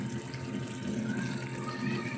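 Water poured into a pan of sautéed vegetables seasoned with salt, fish sauce and pepper, giving a steady low gushing, bubbling wash that holds level for about two seconds with no voices.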